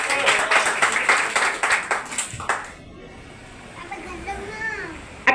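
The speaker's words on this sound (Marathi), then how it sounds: "एकदा आपल्या ॲडव्होकेट भाईंसाठी जोरदार टाळ्या होऊन जाईल" Brisk audience clapping at a Bhim Army and Azad Samaj Party Bahujan community gathering in Mumbai, honouring advocates, lasts about two and a half seconds and then dies away into a quiet hall with scattered voices.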